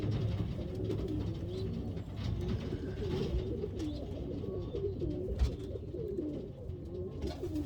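Pigeons coo steadily in a breeding loft, a dense overlapping murmur of several birds close by, continuing throughout with no one speaking.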